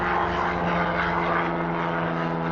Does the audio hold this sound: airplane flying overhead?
yes